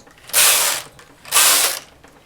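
Knitting machine carriage swept across the needle bed while knitting rows of a braided cable, two loud, close rattling passes separated by a short pause.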